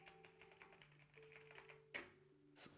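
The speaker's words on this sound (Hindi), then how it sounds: "मेरे मैकेनिकल कीबोर्ड की टाइपिंग की and we are using a Cherry MX Red keyboard" Rapid typing on a mechanical keyboard with Cherry MX Red switches, a steady stream of soft clicks with a couple of sharper, louder key strikes near the end, heard close up with a faint background hum.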